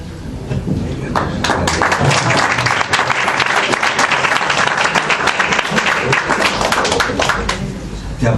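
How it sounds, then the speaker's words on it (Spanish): Audience at a book presentation breaks into loud, sustained applause, dense clapping filling the room close by, with a few voices faintly underneath. "Te aplaudimos"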